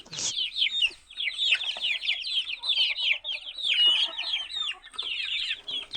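Native chickens cluck and chatter steadily on a farm, several birds calling close by in overlapping bursts through the whole stretch.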